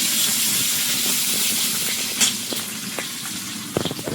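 Chopped onion sizzles in hot oil in a pan with panch phoron and bay leaf after fried catla fish, a steady close, loud hiss with a few sharp crackles and pops near the end.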